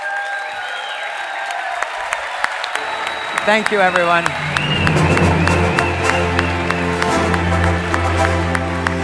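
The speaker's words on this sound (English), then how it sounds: "give this amazing individual a massive round of applause" A large audience applauds and cheers for the CEO at a LifeWave event, sustained loud clapping swelling over music, with a brief spoken thanks.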